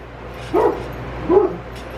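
A dog gives two distinct barks about a second apart, fairly close, over a quiet background hum.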